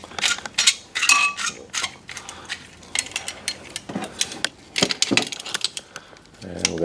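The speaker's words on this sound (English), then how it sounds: "now we're going to compress the piston on the caliper. I'm just going to use a big old C channel" Ford Focus front brake caliper piston being pressed back with a large clamp: irregular metallic clicks, creaks and scrapes in short bursts, close and moderately loud, with quiet gaps between.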